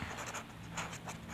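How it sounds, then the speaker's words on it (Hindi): Pen writing numbers on paper, soft close scratching strokes in short bursts that stay faint and steady, with no voice. "यहाँ पे लिखते हैं"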